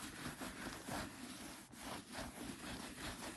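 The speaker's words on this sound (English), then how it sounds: "Keep rubbing again." A cloth rubbing back and forth over a light-colored Chanel leather bag to clean it, a faint, steady scuffing swish with no voices.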